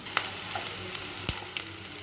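Onion fries with spices in a pan for channa masala, a close, bright sizzle broken by sharp stirring clicks and scrapes, one loud knock near the middle, no talking.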